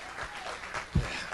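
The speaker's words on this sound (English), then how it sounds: "Round of applause again" Audience applause at a stand-up comedy show, a brief, faint spatter of clapping from a crowd with one soft thump partway through.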